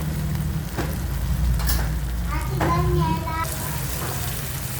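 A fresh egg dropped into simmering sardine sauce in a pan gives a steady soft sizzle and bubbling, close and continuous, with faint utensil clinks.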